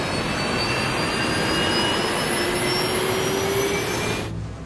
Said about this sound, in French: Les turbines des réacteurs font en effet des bruits différents en fonction de leur vitesse de rotation.